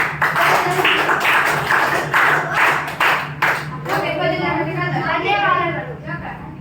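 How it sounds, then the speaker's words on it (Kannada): Students in a classroom clap for the winning teams of a social science activity, a burst of many hands applauding, rhythmic at first and then fading as people talk. "ತಂಡ 1 ಮತ್ತೆ ತಂಡ 3 ಇವರಿಗೆ ಎಲ್ಲರೂ ಚಪ್ಪಾಳೆಯೊಂದಿಗೆ ಚಪ್ಪಾಳೆ"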